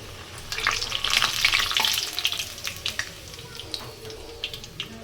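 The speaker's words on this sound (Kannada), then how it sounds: "ಸೊ ಪೂರಿ ರೆಡಿ ಮಾಡ್ಕೊಂಡಿದ್ದೀನಿ. ಇವಾಗ ಕರಿಯಬೇಕು. ಎಣ್ಣೆ ಕಾದಿದೆ." Pooris frying in hot oil, a steady close sizzle with bursts of crackling and bubbling that swell in the first couple of seconds and then settle into a softer, intermittent spatter.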